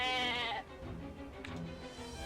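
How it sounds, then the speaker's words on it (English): A goat in the video game Atelier Ryza gives a drawn-out, wavering bleat that opens loud and then trails into a steady game background. "Where are you, Mr. Goat? Oh. There he is"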